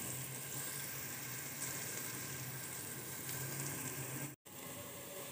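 Onions sizzling and frying in a pan while browning for homemade pocket shawarma, a steady close hiss that runs on continuously alone with no talk and drops out for a brief instant near the end.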